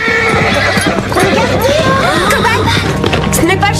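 Veronica's horse neighs in a loud whinny, with hoof clops and a busy, dense mix around it.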